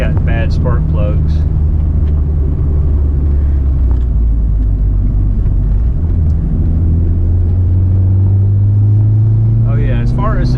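A Mitsubishi Galant VR-4 with small aftermarket cams idles with a steady, low, close engine rumble, while people talk over it at the start and end.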